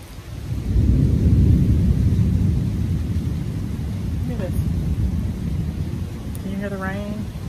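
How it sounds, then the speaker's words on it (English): Heavy rain pours during a dark thunderstorm under a tornado watch, with deep rolling thunder rumbling loudly throughout and a faint voice-like tone near the end. "It's raining."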